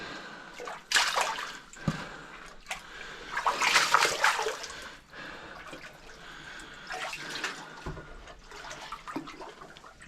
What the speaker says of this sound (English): I can hear water falling as well.